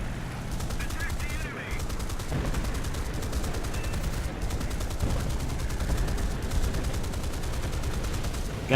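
Rapid continuous aircraft machine-gun fire rattles throughout, with heavier cannon bursts mixed in over an engine drone, in the video game War Thunder, aimed at a BV-238.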